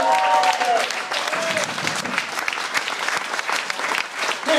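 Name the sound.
audience applause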